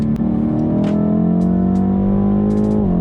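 A BMW M850i V8 engine held at high revs in third gear, a loud, sustained, rising drone from inside the car, dropping slightly at the end.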